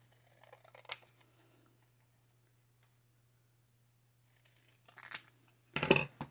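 Paper being trimmed with scissors in a quiet room, a few distinct snips and cuts: one short clip near the start, then a louder cluster of quick snips toward the end, with a steady low hum underneath.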